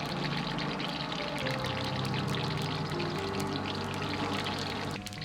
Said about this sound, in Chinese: 接着用同样的方法下入没有炸过的，全部炸完。